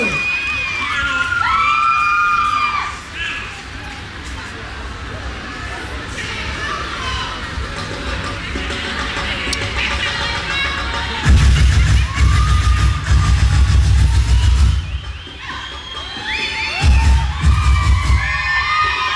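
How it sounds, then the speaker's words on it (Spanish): A crowd at a Dominican zamba dance festival bursts into loud applause and cheering after a samba performance, with shouts and voices over music and a second swell of clapping near the end. "¡Fuerte el aplauso!"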